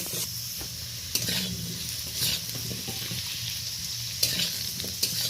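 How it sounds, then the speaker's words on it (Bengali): Potatoes stirred and frying in a pan, a continuous sizzle broken by several scraping strokes of a spatula against the metal, close up with no talking. "2-3 বার ভালো করে নেড়ে চেড়ে আলুটা একটু লালচে করে ভেজে নেব।"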